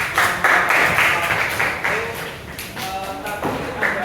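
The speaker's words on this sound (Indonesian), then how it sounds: "Tepuk tangan dulu ya." A classroom audience claps after a group presentation, a burst of close, scattered handclaps and taps that thins and flares again over four seconds.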